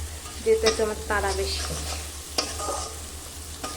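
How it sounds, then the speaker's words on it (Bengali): Egg masala with ginger and chilli sautéing in a pan, a soft low sizzle with a few utensil knocks, while someone talks over it and a low hum runs underneath. "আদা লঙ্কা দিয়ে এখন ডিমের মশলাটা হলো যে কষিয়ে নিচ্ছি"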